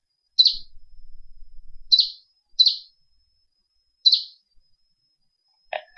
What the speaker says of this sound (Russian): Цыпленок.